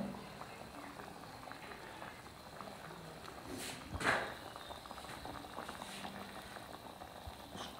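Mutton masala curry simmering in a pot after warm water and coriander leaves are added, a faint steady bubbling hiss with a brief louder burst midway.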